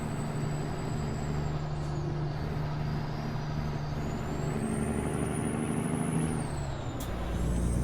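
Semi truck in American Truck Simulator hauling a special transport of tires, a constant loud diesel drone with a high hissing whine sliding up and down, then a sharp air-brake release near the end.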